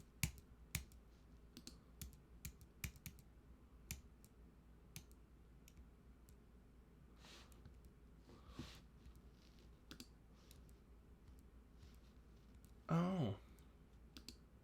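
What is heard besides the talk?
computer keyboard clicking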